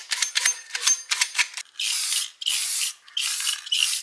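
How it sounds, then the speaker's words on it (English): A rough bathroom surface is sanded by hand before spray painting: a run of quick, rhythmic rasping strokes, followed by longer, steady hissing sweeps, close and alone with no talk. "I'm gonna sand first because it is a little rough."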